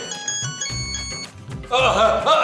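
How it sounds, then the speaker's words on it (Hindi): A phone ringtone plays a bright melodic tone pattern, followed by louder mixed sound toward the end. "फोन बजा दे मुझे"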